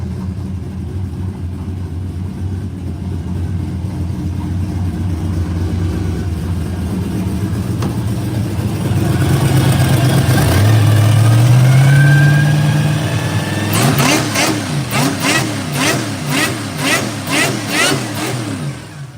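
A loud supercharged engine with a Pete Jackson gear drive in a 1968 Pontiac LeMans idles with a mechanical whine, then revs up sharply, the pitch climbing and holding before settling into a rough, pulsing idle.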